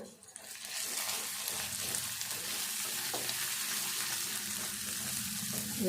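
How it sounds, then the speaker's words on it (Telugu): Onions fry with salt in a hot pan for an egg curry, a continuous loud sizzle with faint stirring scrapes throughout. "ఉల్లిగడ్డ తొందరగా వేగుతుంది"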